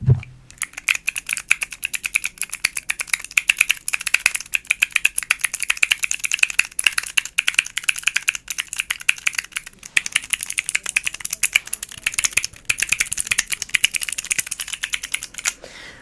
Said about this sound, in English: I love this little keyboard, by the way.